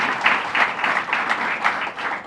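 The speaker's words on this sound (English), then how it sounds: "So let's give a round of applause to our mayor here." An audience applauds the mayor at a government housing announcement, a dense burst of clapping that swells and pulses steadily for a couple of seconds.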